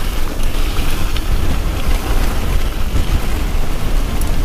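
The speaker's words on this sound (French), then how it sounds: "Oh, il y a un vent là, il est glacial." Icy wind buffets a cyclist riding near a hilltop lake, a loud, constant rushing roar that fills the whole clip with no talking.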